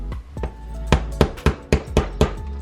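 PTFE hose fitting being tapped into place with a hammer, giving about seven sharp knocks at an uneven pace, fairly close and loud against quiet background.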